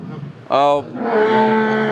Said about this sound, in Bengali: ইদ্রিস ভাই তো গরু পালন আসলে কেমন লাগে